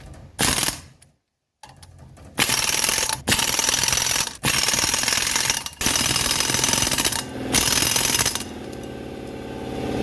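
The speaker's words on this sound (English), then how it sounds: "we want to torque them down in a star pattern" A power tool drives hub bolts on a 1985 Mercedes 300CD in a star pattern, giving several loud, close rattling bursts separated by short pauses.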